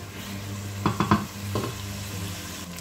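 Tomatoes fry in a pan for a family karam saag recipe, a soft sizzle broken by a quick run of three scraping stirs and one more stir a moment later.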